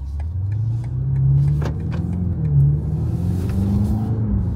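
A BMW X6M Competition pulling away at dusk toward downtown Detroit, its engine a deep steady rumble with a rising and falling drone as it accelerates, heard loud from inside the cabin, with no talk.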